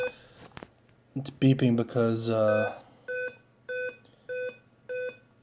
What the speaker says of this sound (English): And there it's beeping